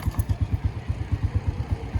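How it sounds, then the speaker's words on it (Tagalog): A motorcycle engine idles while warming up, its close, steady low thump pulsing in an even, rapid rhythm throughout with no voices. "Initin mo muna yung makina mo."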